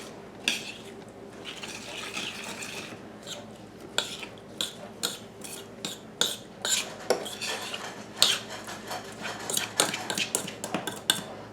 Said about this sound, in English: We're going to stir all this together.